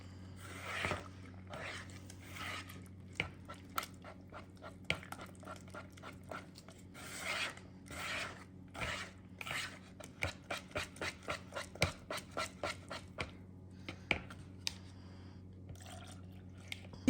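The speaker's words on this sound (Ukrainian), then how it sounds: "Перемішуємо тепер все ретельно" Pancake batter with milk being stirred in a bowl, a run of soft wet rhythmic clicks and squelches, close and quiet, speeding into faster regular strokes in the second half.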